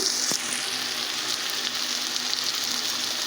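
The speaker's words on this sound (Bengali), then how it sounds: "এখন আমি পেঁয়াজ কুচিটাকে খুব ভালোভাবে ভেজে নিব" Chopped onion frying in oil for beef biryani, an even hissing sizzle close by, with one sharp clink of a utensil near the start.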